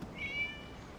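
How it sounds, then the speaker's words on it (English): A cat in the Genshin Impact video game gives a single faint, high, drawn-out meow that fades over quiet background ambience. "It was just a cat."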